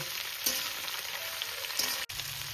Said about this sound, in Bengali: এবার আমি বাদ বাকি এই সবজিগুলোকে একটু ভেজে নেব